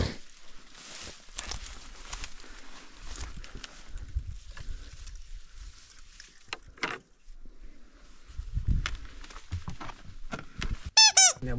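Old door in an abandoned house squeaking as it is pushed open, a few thin high creaks amid quiet shuffling and footsteps, fairly faint and close, ending in a sharper squeal.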